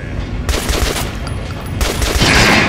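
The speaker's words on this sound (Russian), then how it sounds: "Попробуй выстрелить центр груди обычного манекена." Rapid bursts of video game gunfire at a shooting range in Metro: Last Light crack out in quick succession, loud and close, with a dense rattle of shots running nearly the whole time.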